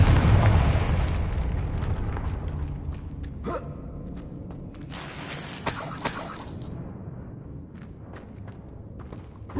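A Confringo blasting spell from Hogwarts Legacy detonates as a loud, rumbling explosion that fades over several seconds, with a few sharper pops and crackles scattered through the tail.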